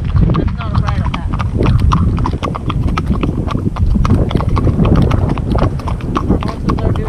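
Steady clip-clop of horse hooves on a hard road in Ireland, continuous and close, with people talking over the rhythmic footfalls during a long-distance ride.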